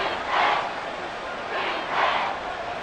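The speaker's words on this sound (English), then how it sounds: "This crowd turning up the decibel level." Stadium crowd roar from the Madden NFL 24 football video game, a steady broad wash of cheering that swells twice in loud surges, loud and continuous with no talk on top.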